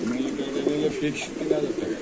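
Military pigeons at a bird market coo steadily at close range, soft throaty rolling calls overlapping as people talk over them.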